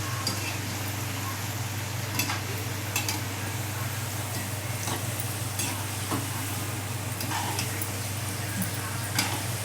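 Modak frying in hot oil, a steady dense sizzle with occasional sharper pops and faint utensil ticks, close and continuous throughout.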